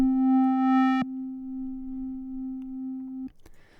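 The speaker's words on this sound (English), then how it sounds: "let me show you what a sine wave LFO would sound like if it is affecting the amplitude" A synthesizer sine wave whose amplitude is shaped by a sine LFO: a pure steady electronic tone that shifts in loudness, drops partway through, then cuts off with a brief noisy tail.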